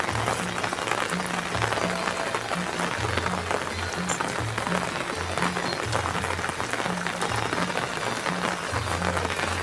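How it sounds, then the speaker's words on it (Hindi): Steady rain hisses evenly throughout in an Indian village, with a low, intermittent hum in the background and no voices. "वहाँ पर बारिश हो रही है"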